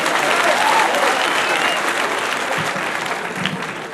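A crowd at a Kenyan political gathering applauds the governor, loud continuous clapping that gradually tapers over a few seconds.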